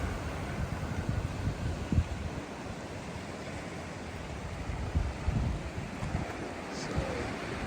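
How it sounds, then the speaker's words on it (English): Ocean waves crash into the rocks below Point Peron as a rough, rumbling wash of surf, heavily buffeted by wind gusting across the microphone, with no voices. "so the waves down there crashing into the rocks."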